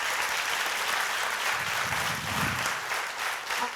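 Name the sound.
audience applause for a speaker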